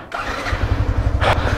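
A motorcycle engine idles while warming up before a ride, a steady low pulsing throb that runs throughout, with a brief burst of noise near the end.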